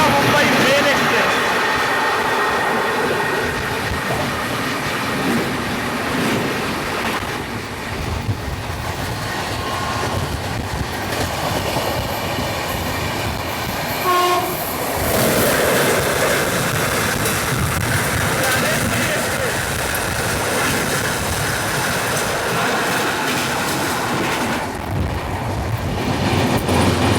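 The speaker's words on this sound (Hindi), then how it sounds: "Howrah Mumbai mail express." The Howrah Mumbai Mail Express rushing past with a continuous loud roar of wheels and carriages, a horn sounding partway through, and someone speaking at times over the noise.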